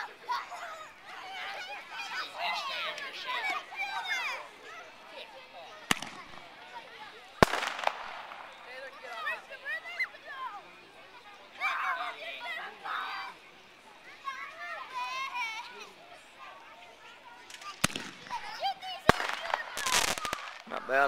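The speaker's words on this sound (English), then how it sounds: "The mini mega artillery shell. Little 1-inch artillery shell." Several sharp bangs from 1-inch mini artillery shell fireworks crack out at intervals, loud and abrupt, amid excited children's chatter and voices talking throughout.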